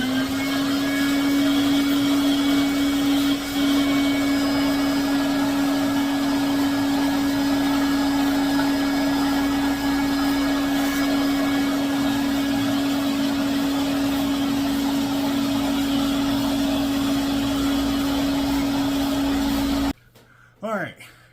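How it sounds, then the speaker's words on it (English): A vacuum cleaner runs steadily, cleaning dust from a PTAC unit, with a loud, constant motor whine and whoosh for a long stretch, then cuts off abruptly near the end. "I like to take the vacuum with"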